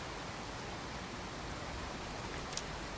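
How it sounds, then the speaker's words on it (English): Steady heavy rain from a storm in the video game Skyrim pours down as a dense, even hiss with no pauses, alone and fairly loud throughout. "but it's tipping it down with rain."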